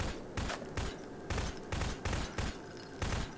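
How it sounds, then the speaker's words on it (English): Rapid gunfire in the video game Garry's Mod comes as loud, repeated bursts of shots in a fairly regular rhythm, about eight punchy volleys in quick succession with brief gaps between them. "You're just shooting nothing. It's, you shot like 50 times."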